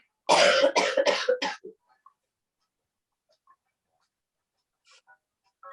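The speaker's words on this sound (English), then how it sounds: "I hope it's not bringing out your cough too much" A quick burst of several sharp coughs close by, then near silence with a few faint ticks and small noises.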